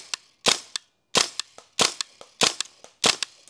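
A gas airsoft rifle firing 0.32 gram BBs in a close, sharp series of about six loud cracks, each followed by a smaller click or echo, with brief silent gaps between shots.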